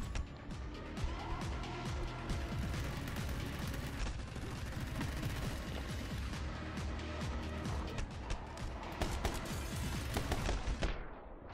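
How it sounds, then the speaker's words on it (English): Video game gunfire in My Friend Pedro, a dense, relentless barrage of rapid shots and automatic bursts layered over one another, loud and continuous for the whole stretch with scattered impacts. "Bullets going on. There's so many bullets."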